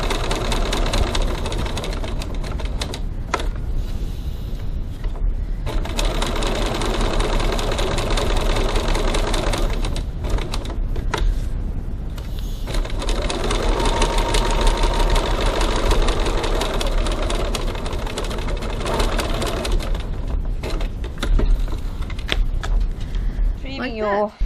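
A sewing machine back-stitches a few stitches at a high-stress point on a leather wallet panel, its busy mechanical whirring running steadily and close for the whole stretch.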